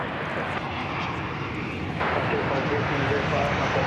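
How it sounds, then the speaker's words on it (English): A jet airliner taking off at DFW Airport gives a steady, moderately loud roar that swells slightly partway through, with someone talking over it. "That has rotated, it's up and about."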